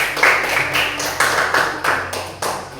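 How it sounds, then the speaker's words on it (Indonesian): A classroom group breaks into applause, a brisk run of hand claps carrying steadily for a few seconds at close range, with no one talking over it. "Tepuk tangan buat kelompok 1."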